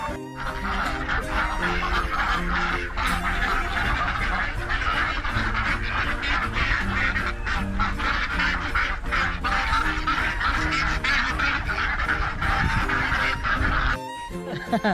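A flock of Peking ducks on a free-range poultry farm quacks and honks loudly and without a break, many overlapping calls close by. The noise cuts off near the end.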